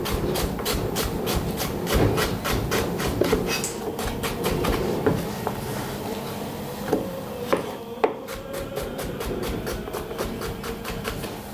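Repeated knife strokes cutting potatoes on a cutting board, a steady rapid chopping rhythm with a few sharper knocks, close by and continuous.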